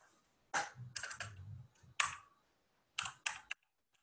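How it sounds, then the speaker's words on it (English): Keystrokes on a computer keyboard in a seminar room, arriving in short irregular bursts of clicks separated by quiet gaps, fairly near but not loud. "Somebody's typing."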